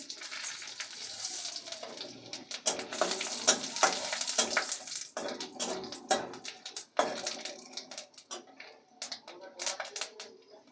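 Dried red chillies, bay leaves and panch phoron crackle and sizzle in hot oil, with a spoon scraping and clinking against the pan in an uneven rhythm, close and fairly loud.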